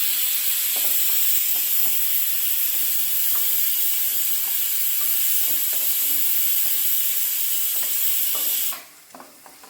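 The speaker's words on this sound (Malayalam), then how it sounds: "നമ്മുടെ പന്നിക്കുട്ടൻ ഫസ്റ്റ് വിസിലടിച്ചു കേട്ടോ" A pressure cooker cooking pork for a pork fry lets off its whistle as a loud, sustained hiss of steam that runs for about nine seconds and then cuts off abruptly, with faint kitchen clatter beneath.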